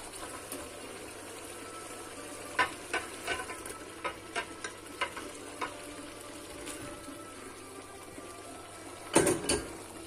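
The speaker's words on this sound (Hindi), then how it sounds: "अभी इसमें मैं जो है चिकन डाल के उसको अच्छी तरह से भून लूँगी" Chicken pieces frying in prepared masala in a home kitchen, a low steady sizzle punctuated by irregular sharp pops and spatters, with a louder clattering burst near the end.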